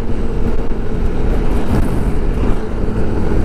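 An old-model Honda CBR 400cc two-cylinder big bike passes close behind, its engine a steady, loud drone that holds level for several seconds with a slight swell near the middle.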